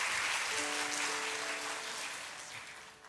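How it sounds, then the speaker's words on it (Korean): An audience at a church Sunday school summer thanksgiving service applauds to welcome a speaker, a dense, steady wash of clapping that fades slightly toward the end. "우리 큰 박수로 환영해 주시면 감사하겠습니다."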